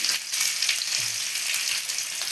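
Potatoes frying in oil with a little turmeric, a close, steady crackling sizzle for a couple of seconds with one soft low bump, no talking.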